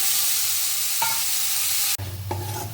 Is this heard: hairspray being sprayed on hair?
no